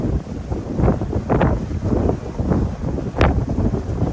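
Strong wind buffets the microphone in continuous gusty roars aboard a boat in a canal at Hernando Beach, with water sloshing and choppy splashes underneath.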